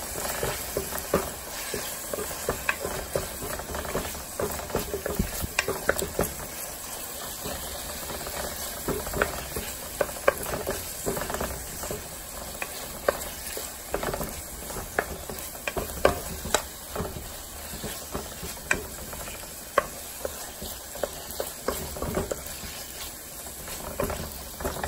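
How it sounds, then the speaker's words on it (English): A spoon stirs chili in a pot over medium-low heat, with scraping and clinking in irregular bursts over a soft constant sizzle and bubbling, close and moderately quiet, with no talking. "Stir that in really well."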